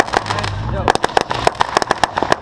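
Backyard Fourth of July fireworks pop and crackle in a rapid string of sharp bursts after a brief whistle-like rise, loud and close, with people talking in the background.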